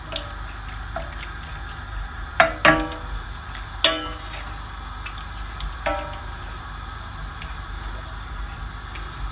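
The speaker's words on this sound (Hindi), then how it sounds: "वन फोर्थ कप पानी डाला मैंने" Water poured from a cup into raw mango chutney in a cooking pan, heard as a few soft splashes and drips with a handful of sharper clinks, fairly quiet against a steady background hiss.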